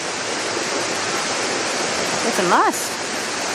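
Waterfall in a Richmond, Virginia park, a steady loud rush of falling water filling the whole clip, with a brief spoken voice over it near the end.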